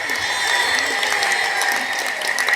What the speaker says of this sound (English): Please, audience, give them a big round of applause for our young leaders.